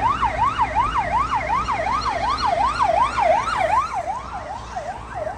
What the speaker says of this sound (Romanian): Uite, mai vin mașini de poliție.